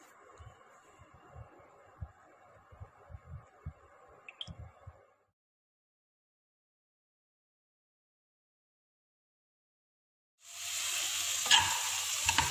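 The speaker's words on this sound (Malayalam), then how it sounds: "സവാള നന്നായിട്ട് വഴറ്റിയും കൊണ്ടിരിക്കണം." Onions sauté in a pan for a roasted-coconut chicken curry with cashews. Soft sizzling with crackles and stirring scrapes gives way to a silent gap, then a loud, close, steady sizzle returns.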